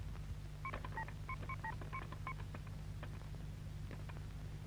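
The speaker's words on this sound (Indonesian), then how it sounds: "Kelihatannya telepon Pandi bicara terus tuh" Touch-tone telephone dialing in a 1990 Indonesian film, with about nine quick beeps in a brisk, uneven run over a low background hum, followed by a faint click.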